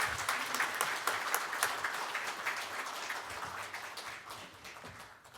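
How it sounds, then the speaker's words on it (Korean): Applause from an audience at a Buddhist spring dharma service held at the National Assembly, honoring the head monk of the Jogye Order: dense, steady clapping that fills the whole stretch, gradually thinning and softening toward the end. "큰 박수를 부탁드립니다"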